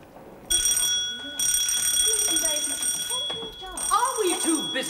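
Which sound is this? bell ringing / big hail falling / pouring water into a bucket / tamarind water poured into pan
bell ringing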